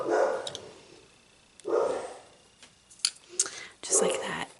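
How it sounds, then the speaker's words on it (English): A dog barks several times indoors, loud and close, in short separate bursts with gaps between them, and something rustles lightly in between. "Of course the dog's gonna bark."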